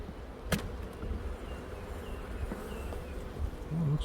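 Black honey bees buzzing on a beehive frame during an inspection, a quiet, close, steady hum of many insects with a few brief louder passes near the microphone.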